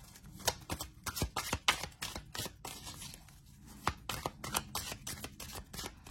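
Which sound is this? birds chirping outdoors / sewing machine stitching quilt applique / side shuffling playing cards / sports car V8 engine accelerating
side shuffling playing cards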